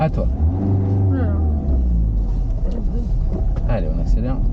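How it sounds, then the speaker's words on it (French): A car accelerates during a driving lesson, and a low engine rumble rises beneath a voice that talks almost all the way through. "Allez, on accélère."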